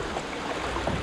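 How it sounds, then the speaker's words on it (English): Water pours over a small drop on the Thames river during high spring flow, a soft, steady broadband rush, fairly faint and continuous with no voices. "Another waterfall."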